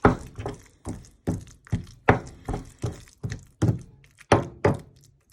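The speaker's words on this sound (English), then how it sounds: "it is a lot easier to make in a pestle and mortar" Steady thudding of a pestle pounding wild garlic pesto in a mortar, about a dozen dull blows in an even rhythm, close and moderately loud with no voices.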